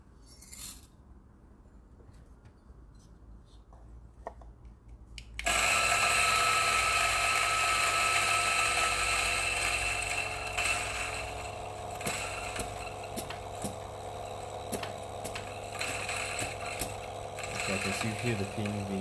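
A flat-burr DF64 or Niche Zero grinder grinds espresso beans, starting abruptly after a quiet lead-in and then whirring loud and steady to the end, with no talk over it.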